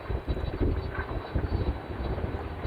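A steady, buffeting jet-engine roar from a Latam Cargo airplane on a landing approach, rumbling and gusty with some wind noise, heard from a recording.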